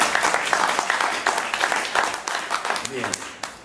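An audience claps and applauds throughout a tribute event held at a cultural centre, producing a dense, steady patter of many hands. A voice briefly speaks over it near the end.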